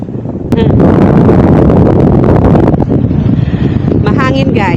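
Strong wind roars into the microphone while parasailing high above the water, a loud continuous buffeting rush that jumps in after a moment and lasts throughout, with a voice speaking briefly near the end.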